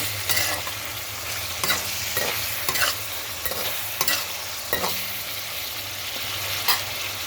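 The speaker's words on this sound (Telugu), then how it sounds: "ఇది కూడా బాగా ఫ్రై అవ్వాలి" Chicken liver frying in a pan gives a loud, steady sizzle close by, broken by repeated scraping stirs of a spatula against the pan, with no voices.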